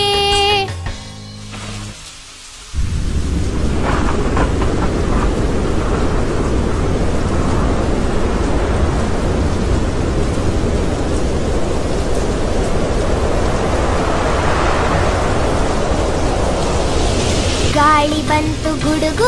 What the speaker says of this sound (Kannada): ಗಾಳಿ ಬಂತು ಗುಡುಗು ಬಂತು ಮಳೆಯು ಬಂದಿತು